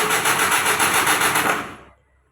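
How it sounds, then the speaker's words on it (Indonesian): A Colt T120SS fuel-injected engine with its ECU removed cranks loudly on the starter for about two seconds with a steady churning rhythm, then cuts off abruptly into near silence without catching. "pada saat kita starter seperti ini, mesin itu dia mau berputar ya"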